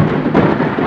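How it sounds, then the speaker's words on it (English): A brief, loud burst of heavy rain drumming hard and steady, close and dense, with no voices. "Hey, it's raining hard."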